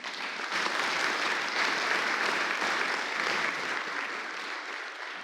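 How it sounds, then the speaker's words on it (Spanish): Church congregation applauding the Lord during a sermon, steady loud applause from many hands sustained evenly throughout without a break. "Dele un aplauso al Señor."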